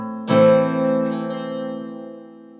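An acoustic guitar plays a chord, the top string plucked and then the rest struck in a single strum that rings out and slowly decays, close and alone.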